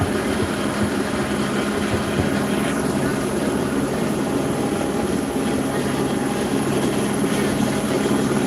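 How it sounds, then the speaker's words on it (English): A police helicopter hovers low over downtown Los Angeles street encampments at night, its spotlight sweeping the area. The rotor drone stays loud and continuous throughout, with heavy low rumble and no voices. "Now it seems to be the helicopter that is spotlighting the encampments."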